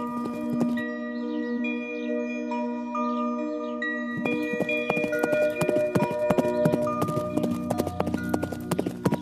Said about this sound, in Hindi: दौड़ शुरू हुई, घोड़ा आगे बढ़ा।